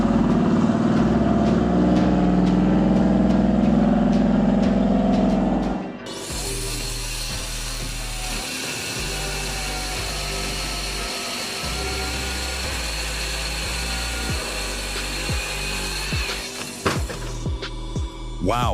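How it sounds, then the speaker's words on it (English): A homemade log saw driven by a hydraulic chainsaw cuts through a log, giving a loud, steady mechanical roar and whine that shifts character partway through and runs continuously to the end. "you'd never guess it's a homemade log saw"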